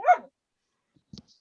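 A dog lets out one short, fairly loud bark at the very start, followed by silence and a couple of soft thumps.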